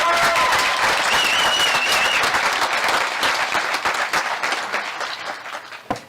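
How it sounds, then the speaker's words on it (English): An audience at a college commencement applauds in a dense burst of clapping that gradually thins and fades toward the end, with a brief voice heard near the start. "Another round of applause for Joe Higgins, huh?"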